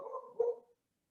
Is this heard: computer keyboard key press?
no